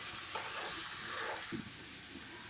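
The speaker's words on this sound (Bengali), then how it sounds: "একটু নাড়াচাড়া করে নেব।" Ginger paste, garlic paste, chili powder, turmeric and cumin sizzle steadily in a hot pan while being stirred, a continuous close frying hiss with occasional scraping pushes, no talking.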